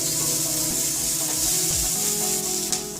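Finely chopped green chilies fry in hot oil with garlic and ginger, making a steady, loud, close sizzle that holds evenly throughout with faint low stirring underneath.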